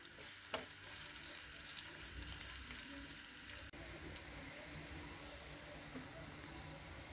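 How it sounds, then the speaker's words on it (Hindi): Steady, close sizzling of onions frying in hot oil, a continuous crackling hiss with a brief clatter partway through. "प्याज को सबसे पहले फ्राई करेंगे।"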